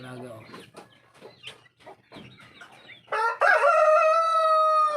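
Brahma chickens make soft clucks and chatter with a person talking nearby, then a rooster lets out a loud, sustained crow close by.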